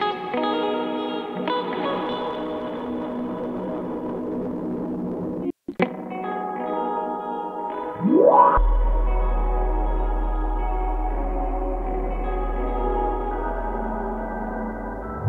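Lunatic Audio Rocket Fuel plugin on its ambient dimension preset, layered sustained tones with heavy reverb and echo, a brief dropout, then a rising swept tone into a deep droning low end that fades slowly.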